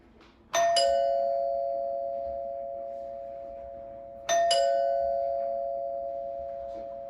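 Phillips Vision doorbell chime ringing inside a house, two separate bright ding-dong strikes a few seconds apart, each ringing out and slowly fading, clear against a quiet room.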